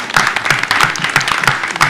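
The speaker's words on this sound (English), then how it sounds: "Can we all give Alan a round of applause?" A meeting audience claps for Alan, loud, close, uneven hand claps from a modest group in a fairly small room, with no talk over them.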